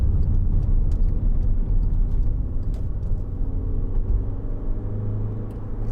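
A 2012 Skoda Yeti 2.0 TDI common-rail diesel 4x4 on the road, its engine a steady, loud low rumble with tyre and wind noise, continuous throughout with no talking.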